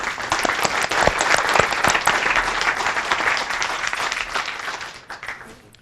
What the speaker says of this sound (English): can you please give a round of applause to this wonderful panel?